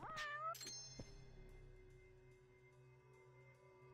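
A cat in the Judgment video game gives a rising, tonal meow up close, followed by a second short cry and a soft thump, then a quiet hum lingers.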